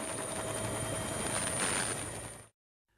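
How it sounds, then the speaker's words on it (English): Helicopter flying over flooded island during a rescue, lifting families from rooftops: a loud, steady rotor and engine drone held close for about two and a half seconds before cutting off abruptly into silence. "Helicopters are lifting families from rooftops."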